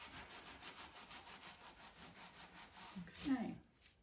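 Wet silk fibres being rubbed by hand during wool felting, a steady soft swishing friction that carries on throughout, growing a little louder near the end before easing off.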